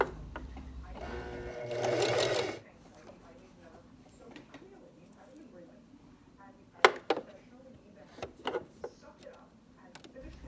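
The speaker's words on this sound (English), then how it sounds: "and then I will continue to sew" Sewing machine stitching a fabric face mask, a dense steady whir lasting roughly a second, followed by quieter handling noise and a few sharp clicks near the end.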